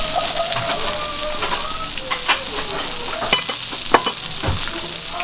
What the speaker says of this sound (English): we're going to add in the carrots, the celery, and some of our white wine